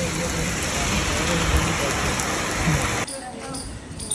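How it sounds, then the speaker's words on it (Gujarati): Steady rain pours down on a wet outdoor surface, a dense continuous hiss close by that thins abruptly near the end. "વરસાદ ચાલુ થઈ ગયો છે"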